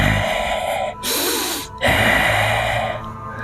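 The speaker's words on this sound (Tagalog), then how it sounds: "nakarinig siya ng malalalim na paghinga sa labas ng" Deep heavy breathing outside a house in a horror story, two long drawn breaths, loud and close, each a rough rasping rush separated by a brief pause.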